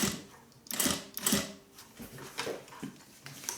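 A sewing machine stitching a sling bag runs in short bursts, its soft mechanical whirr rising and falling, close and fairly quiet.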